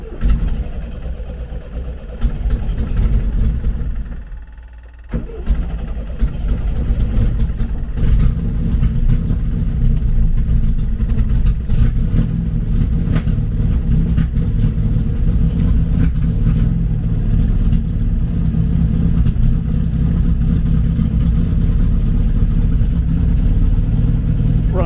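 A vehicle engine starts from cold, then settles into a loud, steady idle with a rough, uneven rumble that carries on without a break, heard close up.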